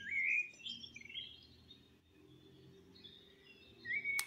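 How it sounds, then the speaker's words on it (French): Two wild birds sing together as a duet near a house, with bright, whistled chirps and trills that come and go, quite soft and distant, with no voices. "certains oiseaux semblent aimer chanter ensemble"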